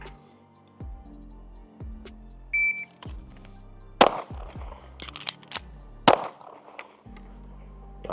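Pistol shots from an Arma Zeka AZ-P1 Vigil, several sharp loud cracks fired at an uneven pace, heard over steady electronic background music with tonal beeps.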